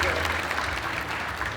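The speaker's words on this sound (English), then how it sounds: "Round of applause for the other." A class audience at a teaching talk gives a round of applause: steady, close clapping from many hands, with some voices mixed in.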